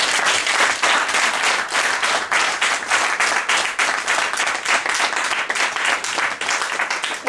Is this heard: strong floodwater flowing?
no